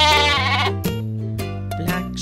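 A sheep bleats loudly and close, a wavering drawn-out call followed by shorter bleats.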